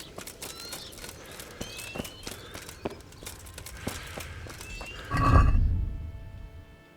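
A horse in Kingdom Come: Deliverance gives a loud, close whinny near the end, preceded by scattered hoof clip-clops and ambient game noise.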